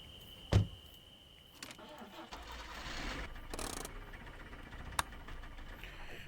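A car engine starts in a video game: a sharp door-like thump, then a cranking catch and a steady low engine hum that settles into idle, with a brief click near the end.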